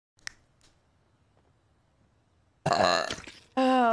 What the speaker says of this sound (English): Also, I burp a lot.